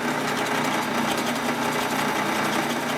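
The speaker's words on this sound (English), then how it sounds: "now we're going to go ahead and just countersink both of the mounting holes" A drill countersinks mounting holes in a light switch cover plate, giving a continuous, steady high-pitched whine that holds at an even loudness from start to finish, close and without talk.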